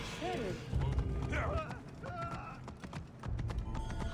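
A horse in the video game Assassin's Creed Origins gallops with rhythmic hoofbeats and a brief whinny, mixed with game sound effects and someone talking over it.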